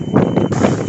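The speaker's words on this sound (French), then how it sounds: "Vous n'entendrez plus rien avec le vent" Strong wind buffets the microphone aboard a sailboat at sea in a 35-knot blow with white-capped water, a loud continuous roar with gusty swells and no voices.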